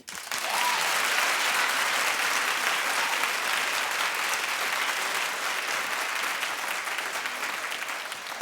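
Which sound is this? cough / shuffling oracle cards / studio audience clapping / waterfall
studio audience clapping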